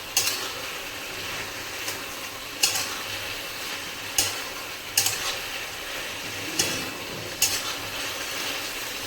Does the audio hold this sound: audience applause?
no